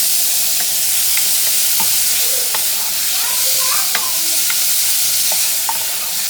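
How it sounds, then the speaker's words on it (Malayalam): A pan of Kerala-style prawn masala with green chili and tomato is stirred over a steady, loud sizzle, with scattered spoon scrapes and taps ticking through the continuous frying hiss. "ഇനി ഇതും എല്ലാം നന്നായിട്ടങ്ങ് മിക്സ് ചെയ്യാം."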